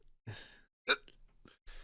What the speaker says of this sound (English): I just ignore the hiccups.